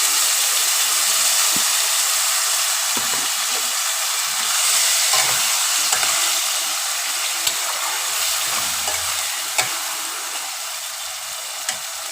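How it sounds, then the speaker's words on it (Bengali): Pakal fish curry bubbles and sizzles in a wok, a steady hissing, spitting wash with small pops and crackles scattered throughout, close and continuous with no one talking. "দেখো মাছটা সুন্দরভাবে ফুটছে।"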